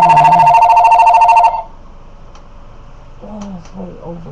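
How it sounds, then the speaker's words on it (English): A household telephone rings loudly in a rapid trilling burst for about a second and a half, then stops, leaving quiet room tone before a person starts talking. "Every time I make a video, that phone rings."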